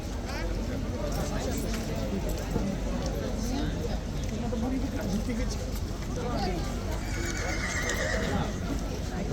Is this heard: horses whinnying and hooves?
yes